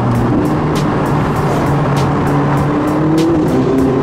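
McLaren 675LT engine and exhaust heard at a racetrack, a steady loud drone with small rhythmic crackles that could be exhaust pops, close and continuous.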